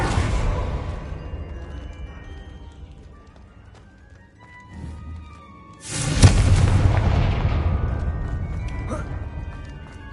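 A Confringo fire spell blasts in the Hogwarts Legacy video game: a low rumbling bed gives way to a sudden loud explosive boom midway, followed by a long decaying roar.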